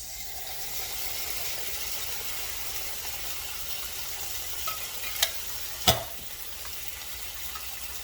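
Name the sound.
tomato paste and diced tomatoes cooking in a pot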